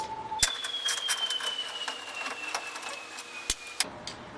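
A window regulator bolt being removed from a car door during disassembly, a steady whirring power tool with a slowly falling pitch, close and continuous, framed by sharp clicks at start and end.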